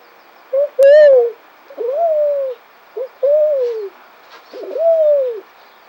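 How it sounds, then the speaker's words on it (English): Several soft, low coos from a dove come in a slow repeated pattern, close by and clear, with quiet gaps between each call. "Do you hear the doves?"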